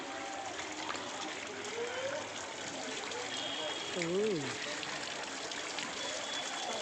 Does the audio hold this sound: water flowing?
yes